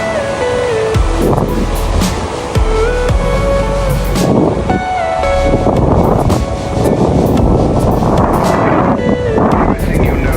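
Strong wind roars and buffets the microphone in loud gusts while parasailing over Cox's Bazar, with a voice shouting intermittently over the rushing air.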